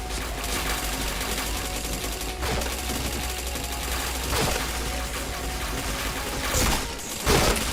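Rapid, dense gunfire from a shooting video game runs as continuous bursts throughout, loud and unbroken, with a heavy low rumble underneath and no clear talk.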